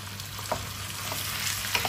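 Pork leg sautéing with softened onion in a pan, a continuous sizzle with a few utensil scrapes and taps as it is stirred, close and moderately loud.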